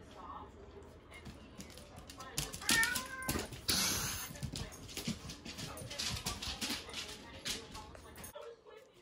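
A cat meows in a home alongside a Great Pyrenees puppy, short cries amid rustling and movement, with people talking nearby.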